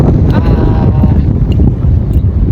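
Strong wind gusts roar across a foggy mountain trail on the climb of Mount Bismo, a loud, continuous buffeting rush with no voices.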